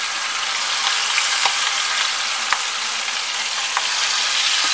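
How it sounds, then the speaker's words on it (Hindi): A mutton leg roast cooks over a medium flame in a heavy pot, giving a loud, dense, continuous hiss of frying fat with a few faint knocks as the meat is turned, close and uninterrupted. "इस तरह से चलाते हुए घुमाते हुए हम इसे इसकी साइडें चेंज कर करके पकाएंगे।"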